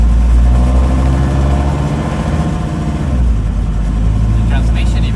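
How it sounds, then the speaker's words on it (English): Five-cylinder diesel in a Dodge Ramcharger running on a homemade exhaust with no mufflers, a loud, steady, close rumble with a slight rise and fall in pitch. "I just cobbled together an exhaust from some bits and pieces I had laying around, and it has no mufflers"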